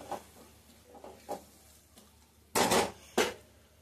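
Spice paste (masala) being stirred and fried in a pan, with scattered soft scrapes of a spoon and a few louder clattering strokes against the pan over a faint sizzle.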